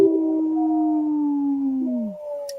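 A person imitates a wolf howl on a radio show, one long sustained tonal howl that slowly falls in pitch and fades at the end, loud and close with no other voices.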